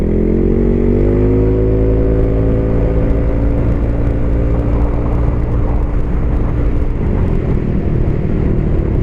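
Yamaha NMax scooter with a 166 cc bore-up engine accelerating hard, a loud, close engine drone rising steadily in pitch for several seconds before dropping slightly as it keeps pulling.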